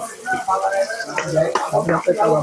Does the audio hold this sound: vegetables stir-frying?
yes